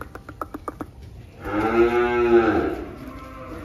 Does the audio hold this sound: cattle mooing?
yes